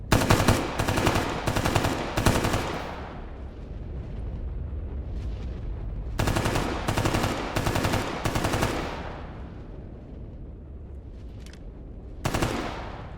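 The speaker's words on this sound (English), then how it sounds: "they're shooting at something" Heavy automatic gunfire from the video game Stalker Gamma comes in loud, rapid bursts separated by brief lulls, each burst a dense rattle of shots with a rumbling tail.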